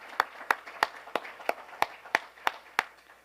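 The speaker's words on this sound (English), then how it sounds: "Can we give her a round of applause," Sparse claps from a small audience at a university state-of-the-university address, about ten evenly spaced sharp hand claps over three seconds, moderately near with no talking.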